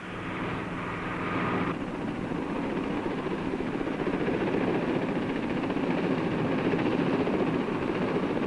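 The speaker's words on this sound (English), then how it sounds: "Chopper boys claim it's the best of all flying worlds. Look at the low flying it can do" Military helicopter of the Royal Navy flying low, a steady loud rotor and turbine roar that holds constant throughout with no talk.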